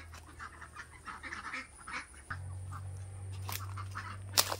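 Domestic ducks quacking in a Philippine rice paddy, scattered faint calls at a distance over a steady low engine hum, with a brief sharper burst near the end.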